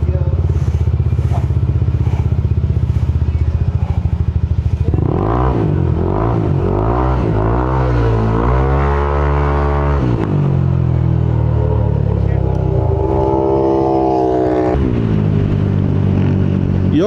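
A Yamaha NMAX V3 scooter with bolt-on upgrades revs hard on a dyno, its loud engine note climbing and falling in repeated throttle sweeps over a steady mechanical drone, close up.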